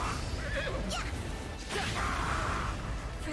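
A horse neighs in the Fire Emblem Engage video game, a sharp whinny rising and falling over game sound effects, followed by a brief crash.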